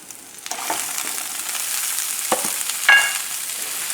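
Spinach frying in a hot pan gives a loud, close, steady sizzle, with a few clattering stirs and a sharp burst near the end.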